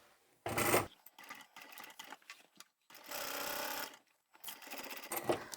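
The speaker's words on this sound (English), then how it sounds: "I've remembered to put my Teflon or vinyl foot on so that I could stitch the vinyl pieces together." A sewing machine fitted with a Teflon foot stitches vinyl pieces together in several quick, loud bursts of rapid mechanical clatter, broken by short pauses and lighter handling noises.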